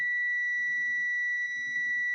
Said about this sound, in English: So this should beep.